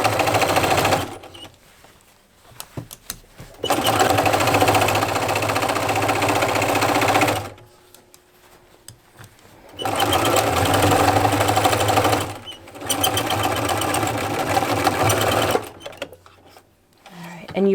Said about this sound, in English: So I just sew all along. My machine walks over pins.